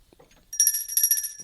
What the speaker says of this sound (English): Fucking hate that bell. I wish we had the old bell.